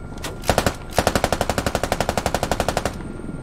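Door gunner machine gun fire from a Canadian CH-146 helicopter in the game Squad, with a few short bursts and then one long, loud, rapid stream of evenly spaced shots.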